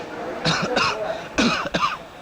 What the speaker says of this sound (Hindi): क्यों सुबह शाम बीड़ी पीते रहते हो और खांसते रहते हो